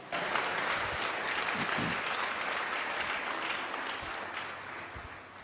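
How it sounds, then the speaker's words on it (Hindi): Church congregation applauding in thanks after a prayer, a dense, sustained wash of many hands clapping together, loud and even throughout and gradually tapering slightly toward the end, with a faint voice underneath. "ताली बजाकर थैंक्स करो खुदावंत का।"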